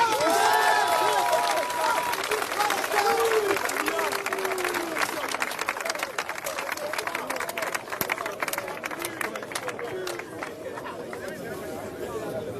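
Church congregation acclaiming the Lord with dense clapping and crowd chatter, loud throughout, with voices calling out over the applause.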